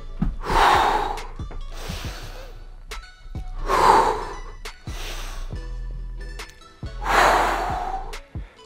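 Heavy breaths during a back and bicep workout: three loud, close exhalations a few seconds apart, each followed by a softer inhale, with no talking over them.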